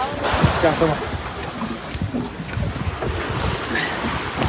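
A boat moves across open water in Colombia as wind rushes and waves wash against the hull, with people talking over the noise.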